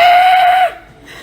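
A human voice imitates a creature screeching in pain: a single loud, sustained, strained high-pitched cry that cuts off abruptly after about two thirds of a second.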